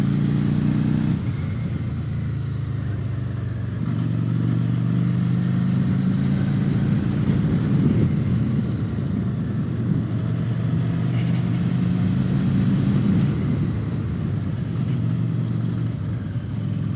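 A Harley-Davidson Street 750 motorcycle engine runs steadily under load on mountain roads with a throaty rumble, pitch shifting as it accelerates and shifts gears, close and loud throughout.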